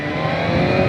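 A BMW M1000XR sports motorcycle's engine revs hard under acceleration, giving a loud, continuous, close-up roar that holds steady through the brief moment.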